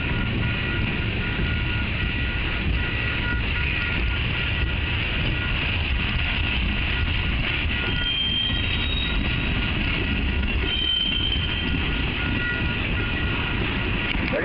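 A Wheeling & Lake Erie freight train rolls past close by in Ohio, a continuous loud rumble of wheels on rails with faint metallic squeals and clanks.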